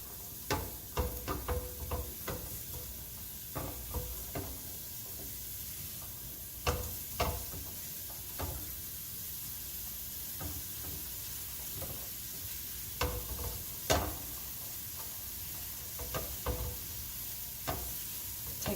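Peppers, onions and celery sautéing in a pan, a steady close sizzle with repeated scraping clicks from stirring at irregular intervals.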